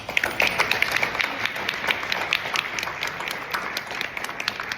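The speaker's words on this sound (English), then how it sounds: "please give yourselves a round of applause" A room of educators applauds themselves, a lively continuous patter of many hands with a few nearer sharp claps standing out.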